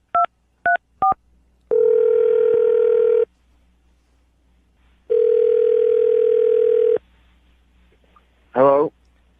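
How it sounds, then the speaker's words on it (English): Phone dialing sounds: three short keypad tones, then two long steady dial tones separated by a gap, followed by a brief warbling ring-like burst near the end; no speech. "I'm going to dial the phone number right now"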